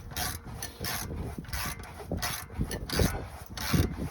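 A long breaker-bar ratchet spins with quick, repetitive clicking and rubbing strokes while loosening a bolt on Infiniti G35 rear coilovers, close and fairly quiet, with no talk.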